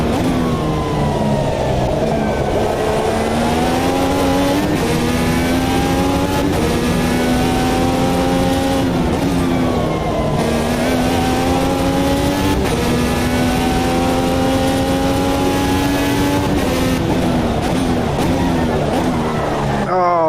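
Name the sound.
IndyCar race car engine and braking in the video game Automobilista 2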